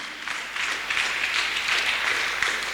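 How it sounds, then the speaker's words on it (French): A church congregation applauding, a steady wash of many hands clapping that fills the room for several seconds at moderate loudness, with faint voices mixed in. "On acclame le Seigneur Jésus"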